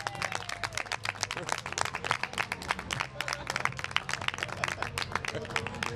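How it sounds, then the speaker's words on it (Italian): Outdoor crowd at a yellow melon festival in Joppolo applauding with dense, lively clapping and crisp individual claps, sustained and fairly close, with faint music or voices beneath. "un applauso, viva Joppolo!"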